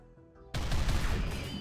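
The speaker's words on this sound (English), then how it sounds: "That las cannon!" A las cannon fires in the Rimworld 40K video game, cutting in as a sudden loud blast after quiet background music, followed by a sustained rumbling boom that rolls on without pause.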